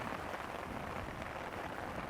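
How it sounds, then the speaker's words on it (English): Steady rain falling on a tent during wild camping, a soft, even hiss of dense drops heard from inside with no breaks. "That rain is back again."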